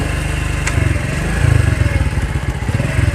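A motorcycle engine chugs loud and close as the bike rides along a flooded, water-covered road, with a throbbing, pulsing idle that rises and falls in steady revs and no talking.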